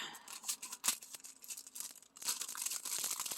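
Plastic packaging holding embossing tools is torn and crinkled open by hand, close up, in irregular rustling bursts and snaps with no talk.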